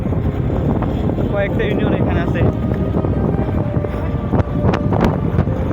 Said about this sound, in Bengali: প্রচুর বাতাস এখানে, যা না তার উপর আবার নদীর পার।